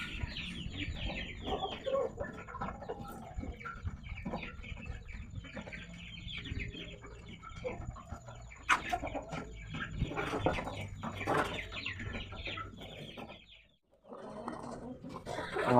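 A sick chicken, being treated with medicine drops for a rainy-season illness, clucks and murmurs close by amid rustling, with a faint voice in the background and a short quiet gap near the end.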